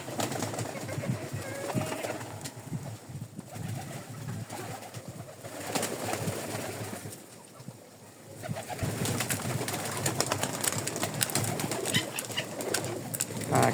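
Pigeons perched in a windy spot coo in low, repeated phrases, steady and fairly close, with gusts of wind buffeting through and occasional wing flutters.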